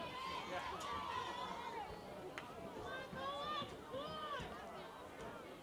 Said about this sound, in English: Crowd's going, screaming, go Mohawks